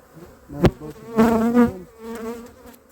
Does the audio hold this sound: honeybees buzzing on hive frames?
yes